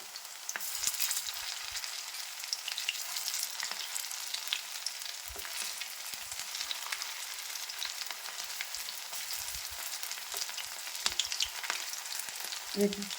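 Fish pakoras bubbling in hot oil in a pan, a continuous close crackling sizzle with occasional soft knocks of a utensil turning them, no voices.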